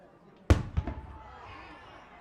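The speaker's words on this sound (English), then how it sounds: "Cannon just went off, lights going nuts." A stadium cannon booms once after a high school football touchdown, a sharp loud blast with a quick echoing follow-up that fades into a low crowd murmur.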